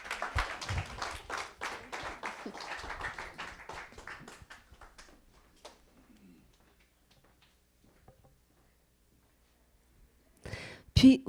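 A church congregation gives a short round of morning applause, a few seconds of scattered clapping that dies away into near silence before a voice returns at the end.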